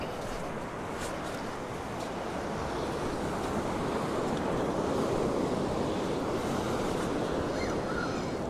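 Surf breaking continuously on Embleton Beach in Northumberland, where a rip current runs and the sea is rougher than expected; a loud, steady roar of waves mixed with wind buffeting the microphone, with no talk.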